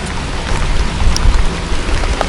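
Heavy rain pours down during an outdoor meal of spicy freshwater mussels, a loud, dense, steady hiss of drops hitting surfaces close by with no letup.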